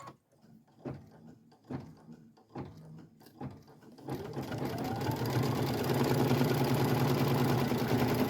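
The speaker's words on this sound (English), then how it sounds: "I'm going to do is just press start and let it start embroidering" An embroidery machine stitching a Christmas stocking, starting with a few separate mechanical clunks, then settling into a loud, continuous rapid whirring and needle chatter that holds steady to the end.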